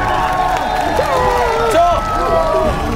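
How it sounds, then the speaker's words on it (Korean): Studio audience on a Korean variety talent show cheers and applauds a successful challenge, a dense crowd roar with shouting voices filling the space continuously and close. "자, 여러분 박수로서 성공을 축하드리겠습니다"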